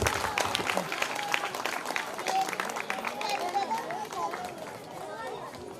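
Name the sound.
church audience applauding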